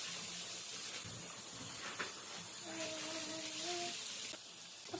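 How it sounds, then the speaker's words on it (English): Water from a tap runs steadily with a broad hiss while a plastic bag is rinsed out in a kitchen sink, the flow continuing throughout with faint background sounds. "I'm just going to rinse out this bag so we can reuse it"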